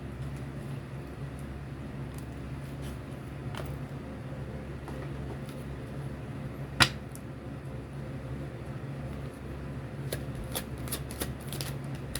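Stiff tarot cards being shuffled, a soft steady riffling rustle under a low room hum, with a sharp snap partway through and a few light taps near the end.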